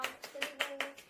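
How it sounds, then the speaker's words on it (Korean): Participants in a craft workshop clap in unison, six quick, even claps about a fifth of a second apart, fairly faint and brief. "박수 치도록 할게요."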